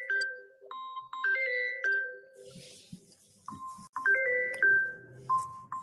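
A mobile phone ringtone plays close by as a repeating electronic melody of bright tonal notes, heard on its own with some faint handling noise in between.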